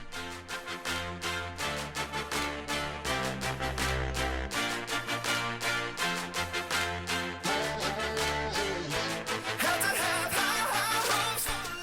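A pop rock song, used as a darts player's walk-on music, plays as a full band track with a steady beat, bass and layered instruments, brightening near the end, with no talk over it.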